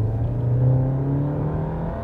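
A Ram Rampage R/T pickup with a 2.0 turbo gasoline engine accelerates at full throttle from about 1,500 rpm, a steady loud engine drone rising slowly in pitch, close and continuous, with no talking.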